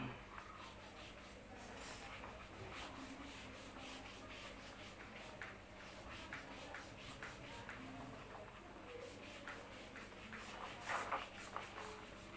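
A teacher rubs writing off a classroom board, a soft, steady scrubbing of repeated back-and-forth strokes, faint over a low hum with faint voice sounds in the background.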